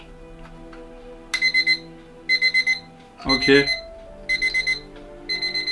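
A mechanical alarm clock rings in short bursts of bright, tinny bell chatter, about five separate rings with pauses between them, loud and close. A brief spoken word and some handling noise fall in a gap between rings.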